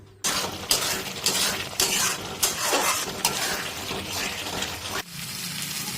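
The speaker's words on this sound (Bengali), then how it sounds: "এইভাবেই হাই ফ্লেমেই কিন্তু এবার আমাদেরকে কষে নিতে হবে প্রায় আরও 10 মিনিট মতন" Egg curry masala is stir-fried in a pan over a high gas flame, with loud, repeated scraping strokes at a fairly even pace over a continuous sizzle. No voices are heard.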